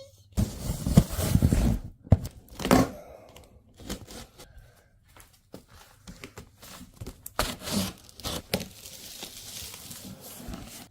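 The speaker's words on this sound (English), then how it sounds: "Let's go ahead and get this big box open," A big cardboard box of motorcycle fairings being opened, with tearing, rustling and crinkling of packaging in close, irregular bursts, loudest at the start and continuing in scattered handling noises.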